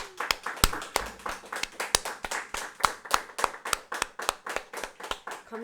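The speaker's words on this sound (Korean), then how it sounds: "하나님께 영광의 박수를 올려드리겠습니다." Congregation clapping together in steady rhythmic applause at the close of a Korean Wednesday church worship service, about two claps per second sustained throughout.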